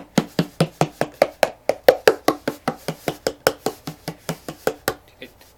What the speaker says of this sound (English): on big drums like the big double skin drum that I have, you can do those flats